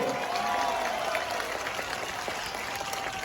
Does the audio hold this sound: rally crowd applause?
yes